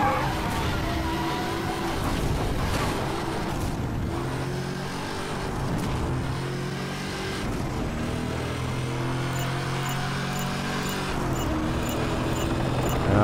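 Cars race in Need for Speed Hot Pursuit Remastered, with engines roaring and tires skidding through continuous high-speed driving and brief changes in engine pitch, while faint game chatter runs underneath.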